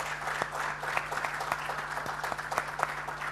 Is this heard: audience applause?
yes